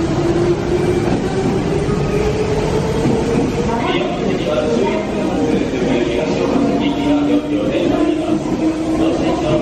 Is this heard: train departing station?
yes